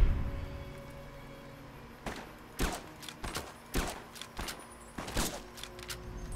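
The Ratslayer rifle in Fallout New Vegas fires about five sharp, separate shots spaced roughly a second apart, each a crisp crack with a short tail, over quiet background without talking.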